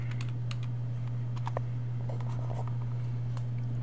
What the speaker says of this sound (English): I am going to type in the word camera.